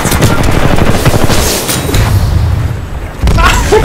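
A grenade goes off during a Titanfall 2 Attrition match on the Boomtown map, a heavy low boom among loud, dense bursts of gunfire, with a sharp fresh blast near the end.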